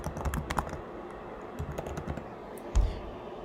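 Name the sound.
typing on a computer keyboard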